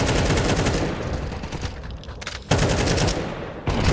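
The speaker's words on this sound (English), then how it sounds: "Throwing out bullets wherever you can" Gunfire in a Counter-Strike 2 match: fast automatic bursts, loud and close, briefly thinning before sharp new volleys cut in.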